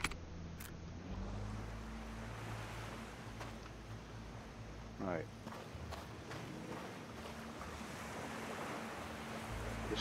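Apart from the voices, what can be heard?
sea waves and ocean ambience in the video game Project Castaway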